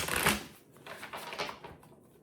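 Tarot cards shuffled by hand, a quick papery riffle followed by a few soft flicking bursts, close and quiet.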